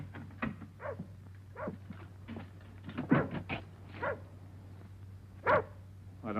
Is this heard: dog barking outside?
yes